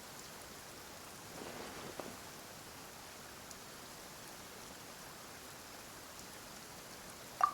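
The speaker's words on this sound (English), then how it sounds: "Perhaps today's rain arrived thanks to you." Steady rain in the Genshin Impact game world, a soft, even hiss of falling drops with a couple of faint patters early on and a sharper knock at the very end, no talking.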